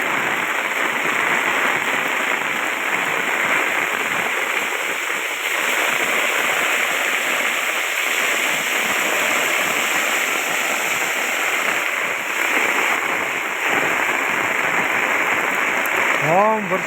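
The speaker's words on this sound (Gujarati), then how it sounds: "રાજુલામાં જોરદાર વરસાદ ચાલુ થઈ ગયો છે" Heavy rain with strong wind pours down in Rajula, Gujarat, a steady dense broadband roar that holds loud and unbroken throughout, with no voices.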